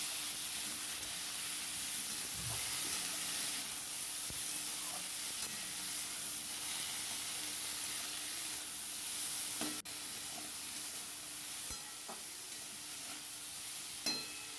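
Chopped vegetable stalks cooking in a pan, with a steady, even sizzle and hiss throughout and a few faint clinks and stirring sounds close by.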